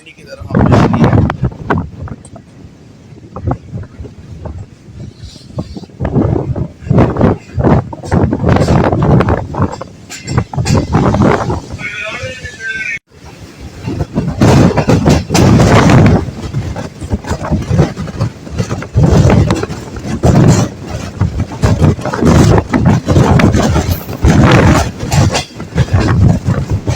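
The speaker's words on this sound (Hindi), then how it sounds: "दोस्तों बहुत ज़्यादा तेज़ हवा है।" Strong gusty wind roaring past a moving train travelling from Mankiyala station toward Rawalpindi, loud buffeting against the microphone in long surges with a brief lull midway, a voice talking underneath.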